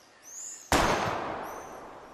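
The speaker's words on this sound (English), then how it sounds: "I bet you want to blow apart those old computer monitors. Let's reboot them with a bullet." In the Life Is Strange Remastered video game, a single sharp gunshot blows apart an old computer monitor, with a sudden loud crack that trails into a fading echo, and faint chirping sounds in the background.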